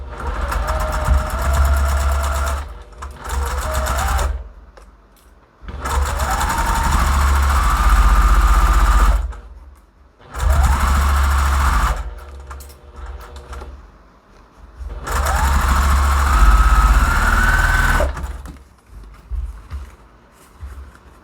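A sewing machine stitches quilt block pieces for an eight-point star sampler in three long bursts, its motor whirring up to a steady rapid hum and then stopping, with short quiet pauses between runs.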